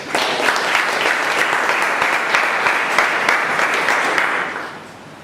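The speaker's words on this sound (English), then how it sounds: "a big round of applause for her also." Strong round of audience applause at a meeting, thanking the secretary who read the minutes; dense, even clapping holds steady for several seconds, then tapers off at the end.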